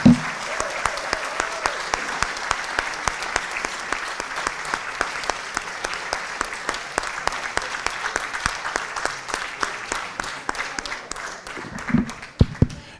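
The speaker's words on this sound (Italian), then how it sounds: "Grazie per questo splendido applauso che sento molto sentito, cordiale" An audience applauds at an evening celebration of a man's 89th–90th birthday: sustained clapping that thins into steady rhythmic claps, ending in a brief burst of voices and louder clapping.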